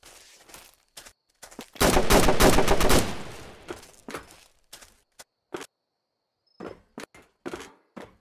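Gunfire in the Roblox survival game Fallen Survival: a loud sustained burst lasting about a second, followed by scattered single shots and thuds that grow fainter and sparser, with no voices.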